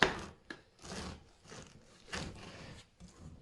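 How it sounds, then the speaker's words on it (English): A knife chops a pineapple into small pieces for homemade pineapple beer, making several close, irregular knocking and slicing bursts against a board with brief pauses between them. "So with the pineapple, cut it into small pieces."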